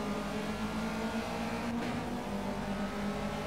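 A steady drone of Ginetta G40 race car engines at Brands Hatch in the game Project Cars hums continuously at moderate volume, with a brief whoosh of a car passing midway.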